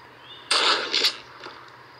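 A single sharp gunshot from the horror game Granny Chapter Two, a bright, noisy crack followed by a short echoing tail and a fainter second burst, heard alone over a low background hum.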